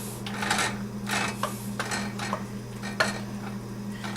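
Cooked shrimp gambas scraped and spooned from a pan into a serving bowl, a run of close metallic clinks and scrapes against a steady low kitchen hum.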